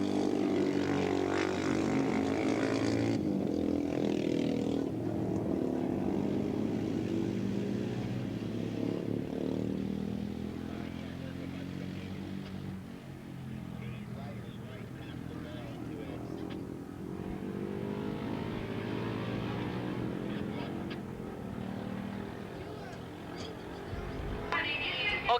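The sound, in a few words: racing motorcycles at Willow Springs, including a Harley Davidson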